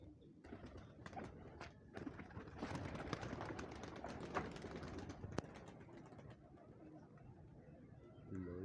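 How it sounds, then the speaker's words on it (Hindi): Pigeons coo softly while wings flap in bursts nearby, with a busy rustling background throughout. "लो जी, ये गिर रहा कबूतर"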